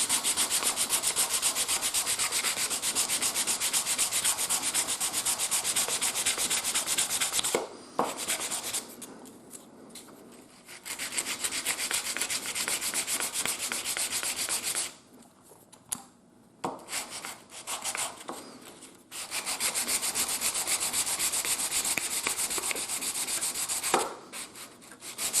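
A wooden part of a steam engine build, coated in graphite, is rubbed back and forth against its fitting in long steady strokes, a close dry scraping broken by a few quiet pauses.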